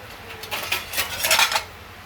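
A plate set over a pan in a home kitchen while palak bhaji cooks, giving a few light metallic clinks and scrapes close by in a short cluster, with no talk.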